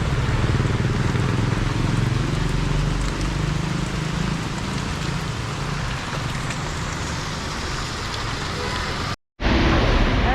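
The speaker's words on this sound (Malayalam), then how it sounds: "നല്ല മഴ." Heavy rain pours down steadily and loudly in a dense, unbroken wash close by, with a brief gap near the end before the downpour resumes.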